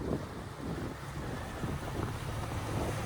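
A low, steady motor drone mixes with wind and water rushing past, a Mikelson 45 sportfishing boat cruising along at a constant pace.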